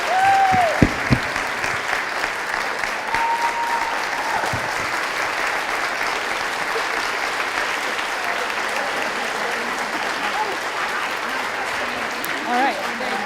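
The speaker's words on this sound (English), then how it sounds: "So let's give a big round of applause to Stacey Abrams and also Michael." An audience gives sustained applause at a library talk, a steady dense wash of clapping that holds evenly throughout, with a few faint tonal sounds early on and no clear speech over it.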